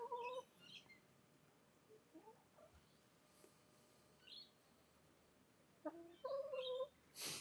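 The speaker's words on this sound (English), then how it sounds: "So the chickens are moving in hot and heavy here." Hens poke around a boat being unwrapped outdoors as rain begins, giving faint, sparse clucks and short calls in bursts, with louder clucking near the end over a quiet background.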